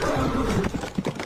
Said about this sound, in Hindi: अब ये घोड़ा जोर का चिल्लाता है